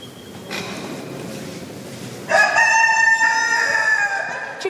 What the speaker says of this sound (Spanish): ¡Gallinas!